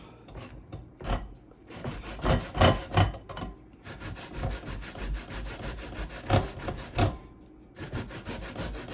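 Raw cassava rubbed hard against a sharp hand grater, rasping strokes repeating in a steady back-and-forth rhythm, loud and close, with brief pauses between passes.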